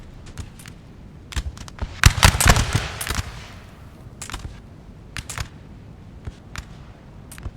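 Musket volleys crackle in Napoleon Total War during the 1807 Siege of Danzig between Prussian and French troops, a dense burst of overlapping shots around the middle among scattered sharp single reports at varying distance.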